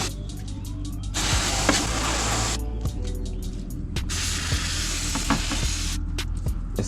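Brake cleaner sprayed onto the hot valve cover of a BMW E92 M3 just after driving, hissing and crackling in several long bursts close by, with brief pauses between sprays.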